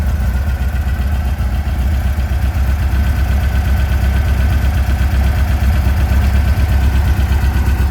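A 1957 Volkswagen Oval Ragtop air-cooled engine fitted with Weber carburetors idles steadily and loudly, a close, even low rumble with a fine rapid pulsing throughout and no voices.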